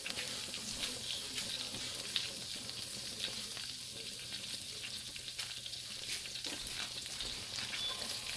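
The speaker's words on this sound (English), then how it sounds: "I'm going to stir in a couple tablespoons of flour along with my shallots" Shallots, garlic and a couple tablespoons of flour being stirred in a pan over a medium flame, giving a steady, close sizzle and frying hiss with soft scraping throughout, no talking.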